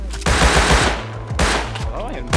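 AK assault rifles fire in the survival video game Rust, two rapid automatic bursts of close, loud cracks separated by a short pause, with a third burst starting at the end.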